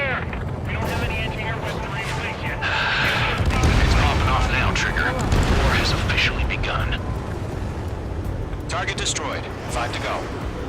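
Anti-aircraft fire and explosions in Ace Combat 7 battle, a dense roaring wash of booms and rumble under shouted radio chatter, loud and continuous throughout.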